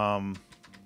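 Computer keyboard keys pressed during a game: a short voiced sound gives way to three or four quick, crisp key clicks, close and fairly quiet.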